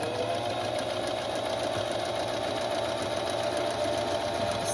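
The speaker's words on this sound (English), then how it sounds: "So now I'm going to sew this to this piece, and we'll do a straight stitch on that." A sewing machine running a steady straight stitch through felt-backed fabric, a continuous close whirring hum with fast rhythmic needle chatter, no talk.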